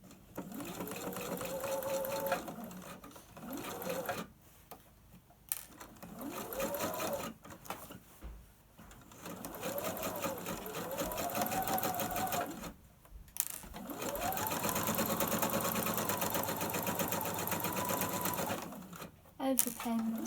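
A sewing machine stitches a lapped zip in several bursts of steady motor whir, each rising and falling in speed, separated by short pauses; talk runs beneath parts of it.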